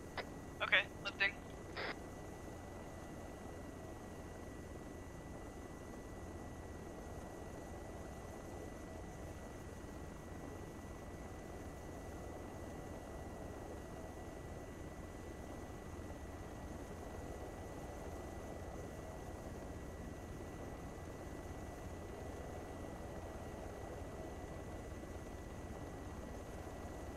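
An MH-6 Little Bird helicopter lifting off in the Arma 3 video game, its steady engine and rotor drone running unbroken for the whole stretch, with a few short radio-style beeps right at the start.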